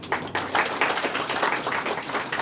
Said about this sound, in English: each of you deserve a big round of applause